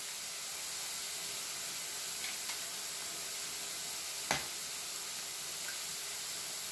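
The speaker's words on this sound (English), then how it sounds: "While the sausage is frying" Sausage frying in a pan for a breakfast casserole gives a steady, even sizzle throughout, broken once by a sharp clink partway through, with no talking.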